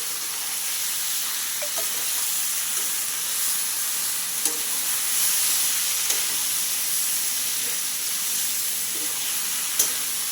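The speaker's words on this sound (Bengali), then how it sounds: "ভালো করে মশলা কষিয়ে নেব যতক্ষণ না পর্যন্ত মশলা থেকে তেল বেরিয়ে আসে" Spice paste with ginger frying in oil for a vegetarian potato and pointed gourd curry, a steady bright sizzle running throughout with a few soft stirring clicks, close and alone with no voices.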